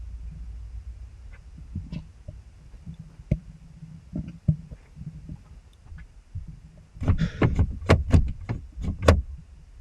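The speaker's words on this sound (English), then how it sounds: "Someone just tried the door." Someone tries the door of a parked camper van from outside at night in Jaywick. A long hush of faint knocks and bumps gives way to a quick burst of sharp, loud rattling clunks near the end.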